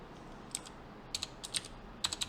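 Computer keyboard typing during a Java coding session, a few quiet clusters of quick key taps separated by short pauses, close and faint with no talking.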